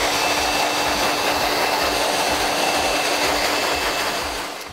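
A hair dryer runs with its nozzle pushed in at the roots of long layered hair, a loud continuous whooshing roar with a steady whine that holds for several seconds before tapering off at the end.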